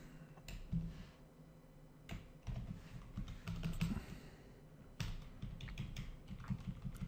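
Keyboard typing at close range, with bursts of keystrokes and short pauses while code is entered on a computer; the taps are moderately loud and clear, and no one speaks.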